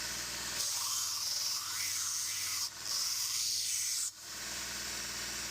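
A hook-tip machete blade is ground on a slack belt grinder, with a steady abrasive hiss and rasp in two long passes separated by brief pauses.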